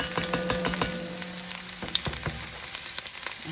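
Small onions sizzle and crackle steadily in hot grease in a skillet, a close, soft frying hiss with a few sharp pops and stirring clicks, and no talking.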